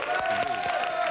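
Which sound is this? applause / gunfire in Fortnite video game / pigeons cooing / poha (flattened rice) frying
applause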